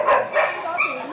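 Dogs at an animal shelter bark in two or three quick, close bursts, with a voice audible alongside.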